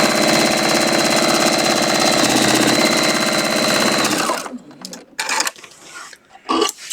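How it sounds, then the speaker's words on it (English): A sewing machine stitches quilt fabric in a fast, loud, continuous mechanical whir for about four seconds, then stops and leaves a few sharp handling clicks and rustles. "I'm just going to hold my threads with my finger as I sew this down"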